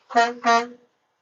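A voice imitates a car horn from a Suburban truck, giving two short nasal honks in quick succession, close and clear, followed by silence.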